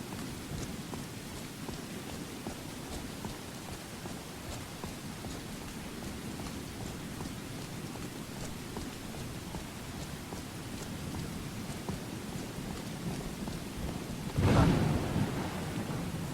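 Steady rain hisses throughout a thunderstorm in the video game Skyrim, with a brief louder rumble of thunder near the end and no voices.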